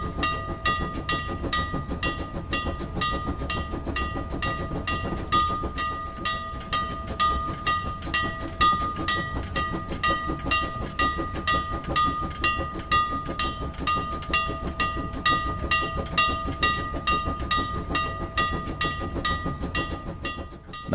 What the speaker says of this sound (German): Die Lokomotive wendet durch mehrfaches Vor- und Zurückstoßen